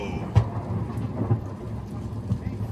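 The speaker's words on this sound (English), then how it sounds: "The thunder was cracking above our heads as you saw before." A thunderstorm over an outdoor fishing spot near Melbourne brings steady rain and rolling thunder, with a close crack of thunder near the start.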